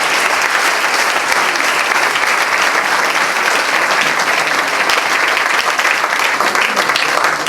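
A crowd at an anniversary celebration for a club in Malestroit applauds warmly, a continuous, even wash of many hands clapping at close range for several seconds, with no speech over it.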